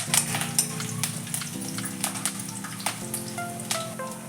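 Steady crackling sizzle of chillies and curry leaves frying in oil, with scattered sharp pops and spatters and a faint low hum underneath.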